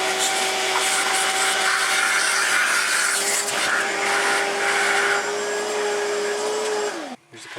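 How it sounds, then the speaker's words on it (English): A shop vacuum sucks loose carbon deposits and debris off an engine cylinder head during prep for painting, a loud steady whine with rattling and scraping as the nozzle moves, then a quick drop as the motor cuts off near the end. "what I'm going to do now is vacuum it up."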